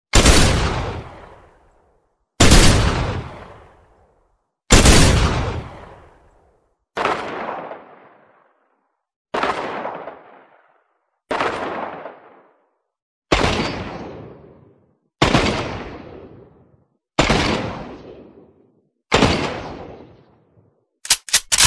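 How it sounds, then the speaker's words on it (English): Ten loud, sharp gunshots from video game semi-automatic dual hand cannon pistols fire one at a time at a slow, steady pace, each with a ringing tail that decays before the next, then a quick double burst at the end. "these are going to be semi-automatic dual pistol hand cannons"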